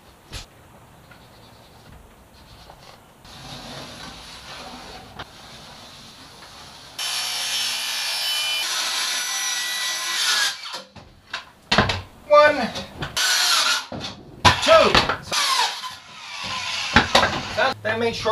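A saw cuts a sheet of plywood into one-foot strips during a boat refit: a loud, steady, rushing cut of about three seconds, followed by irregular clattering and knocking handling noises.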